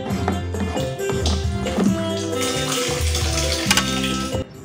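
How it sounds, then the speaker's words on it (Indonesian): Water runs steadily from an opened tap into a household storage tank (toren) fed through a filter line, a continuous close gushing with some splashing and no talk. "Kita buka dulu, kemudian kita buka juga saluran input yang dari filter masuk ke dalam toren."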